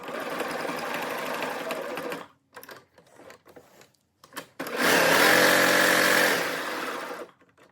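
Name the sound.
sewing machine sewing on leg cuffs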